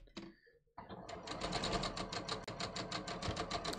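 A sewing machine stitches Japanese woven cotton shorts in a steady rapid whir of needle strokes, close and continuous, after a few brief handling noises at the start.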